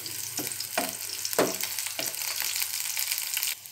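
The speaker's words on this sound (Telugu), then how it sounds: "ఇప్పుడు దీంట్లో పచ్చిమిరపకాయలు వేసుకుని బాగా వేయించుకోవాలి." Green chilies frying in a little oil in a pan give a steady close sizzle, broken by several sharp scraping stirs before the hiss drops away near the end.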